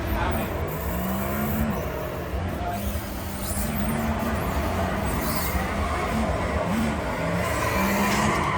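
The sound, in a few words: car engine revving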